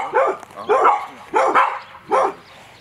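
Dogs barking behind a fence on a property: four separate loud, close barks spaced roughly evenly, with short quiet gaps between them.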